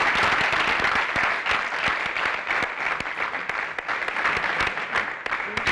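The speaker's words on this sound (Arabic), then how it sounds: "وهيسقف لك الجمهور" Audience applause from a seated crowd, steady dense clapping lasting several seconds at moderate volume with faint murmuring underneath.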